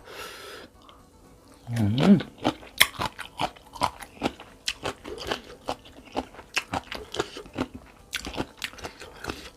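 Someone chews a crunchy Luang Prabang-style papaya salad with fresh shrimp and crisp vegetables. Close, loud bites and crunches come in a quick, steady rhythm, with a brief rustle near the start.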